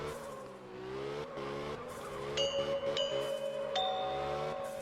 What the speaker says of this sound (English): I guess I didn't start the drift in time